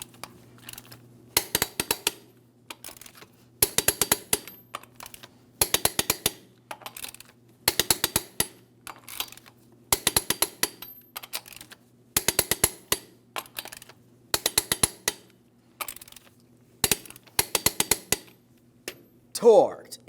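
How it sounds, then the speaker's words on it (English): Lug nuts on the front wheel of a 2007-2014 GMC Sierra 2500 HD are tightened to 140 foot-pounds in a crisscross pattern. Short bursts of close metallic ratchet clicking repeat roughly every two seconds, with quiet pauses between them. "let's go ahead and torque each of these lug nuts to 140 foot-pounds in a crisscross manner."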